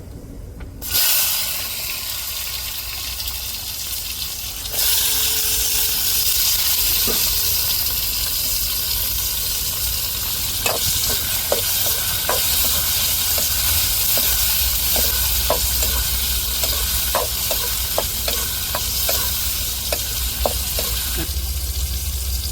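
Onions and tomatoes sauté in hot oil for a Tamil okra tamarind curry, a loud hissing sizzle starting abruptly and holding steady, with a run of sharp spatula taps and scrapes in the second half.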